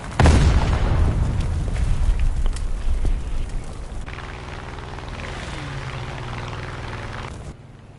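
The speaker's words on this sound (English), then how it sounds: "Look, a bomb." A bomb detonates in War Thunder with a heavy booming blast, followed by a long rumbling decay and the steady drone of an aircraft engine continuing afterward, no voices.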